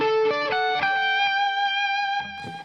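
Distorted electric guitar plays a quick melodic phrase, a run of sustained, harmonically rich notes ringing loud and close, with no talking.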